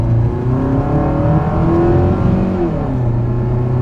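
A car engine runs steadily at low speed and gradually picks up, a loud, continuous close-up hum with a slowly rising tone and no talk.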